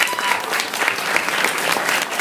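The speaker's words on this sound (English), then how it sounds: "Let's give him a round of applause," Audience applause at a talk introducing a company founder, steady dense clapping from a crowd throughout, without voices.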